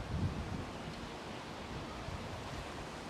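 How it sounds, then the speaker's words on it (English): Wind buffets an outdoor microphone in steady low rumbling gusts, a broad continuous roar with no voices. "It's quite windy today."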